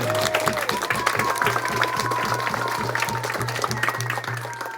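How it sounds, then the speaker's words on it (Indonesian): A crowd claps at an official visit by a regency head to Kampung Terpones in Towe Hitam district, Papua, a busy, moderately loud applause over a steady rhythmic low thumping and a faint tonal background. "tepuk tangan yang meriah"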